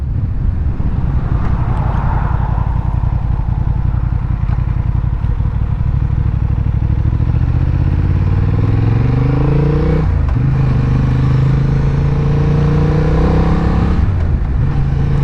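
A Honda Hornet motorcycle engine runs steadily up close, its pitch rising and falling as the rider accelerates and shifts gears, with some mechanical clatter.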